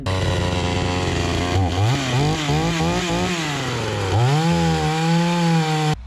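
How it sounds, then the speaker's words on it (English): A 36 cc two-stroke chainsaw engine revs loudly and continuously, its pitch climbing and dropping several times as the throttle is worked, close up with no talking. "this chainsaw may only displace 36 cubic centimeters"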